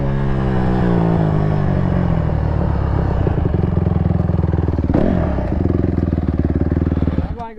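Dirt bikes off-roading roar steadily nearby with a loud engine drone and rising and falling revs. Voices can be heard under the engine noise.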